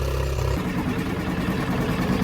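A Suzuki outboard engine on its automatic choke, running continuously with a steady low drone that settles down toward a smooth idle.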